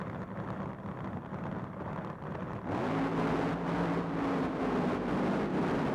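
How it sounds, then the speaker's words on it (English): Nitro-fuelled funny car drag racers at the World Finals leave the starting line together, a sudden, thunderous engine roar that erupts after a few seconds of lower rumbling and stays loud and close. "Leaving the line together, but look at Don Prudhomme"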